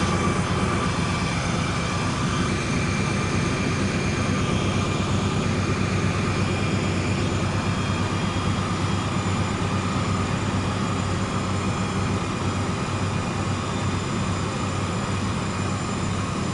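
A train rolls steadily along in a train simulator game, a continuous loud rumble and hum of the locomotive with no breaks and no talking.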